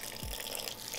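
Hot cream poured from a pan over chopped dark chocolate for cupcakes, a soft liquid gush with a brief low glug, quiet and close with no talking.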